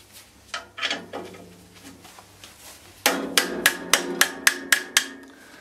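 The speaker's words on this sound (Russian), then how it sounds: "И забиваем клинышек." A wooden wedge is hammered into a band saw blade guide with a series of sharp knocks, a few scattered taps at first, then a steady run of about eight ringing, close blows.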